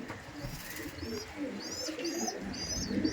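Pigeons in a fancier's loft in Howrah coo in repeated soft, rolling calls, several overlapping phrases close by, with some light chirps above them.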